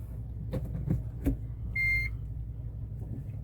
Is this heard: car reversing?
yes